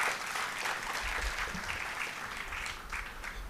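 Audience clapping at a book launch, a dense, continuous round of applause from a room of people, moderately distant and fairly soft.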